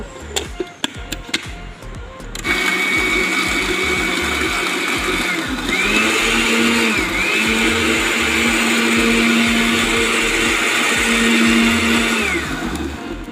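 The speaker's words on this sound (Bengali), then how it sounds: "এখন আমরা ব্লেন্ডার করব।" A blender whirs steadily, churning mint leaves with lemon and water, after a few sharp clicks and knocks at the start; the motor drones loud and continuous with slight pitch shifts, and no one talks.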